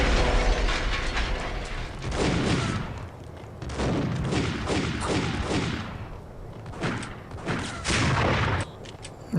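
Rapid bursts of gunfire from the Max Payne video game, loud dense volleys repeating in clusters with short gaps between them.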